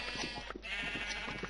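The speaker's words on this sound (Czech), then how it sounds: "Jo, ovečky nám pěkně vyrostly." Sheep bleating in the Minecraft video game, a few clear bleats in sequence over a quiet background.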